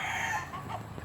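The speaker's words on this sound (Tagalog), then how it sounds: "Ito mga manok." Farmyard chickens cluck and a rooster crows, a loud drawn-out call up close followed by softer clucks from the flock, with no people talking.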